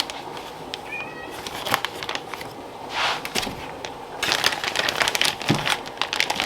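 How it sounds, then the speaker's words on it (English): A male house cat meows and whines indoors in a kitchen, with a couple of short cries amid crinkling of a plastic freezer bag and handling noises, moderately close. "sorry if you hear my cat."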